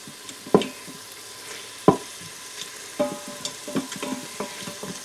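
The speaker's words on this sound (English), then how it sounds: "So we're just going to let that saute a little bit." Food sautés in an Instant Pot for a Chinese dish, with a soft sizzle and sharp intermittent clicks and scrapes from stirring against the pot, close up and without speech.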